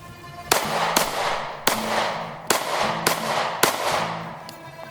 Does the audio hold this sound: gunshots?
yes